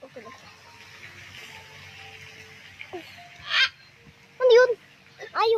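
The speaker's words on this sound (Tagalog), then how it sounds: "Ay, yung parrot" A parrot squawks in a garden setting, several loud harsh calls bursting out near the end over quiet background.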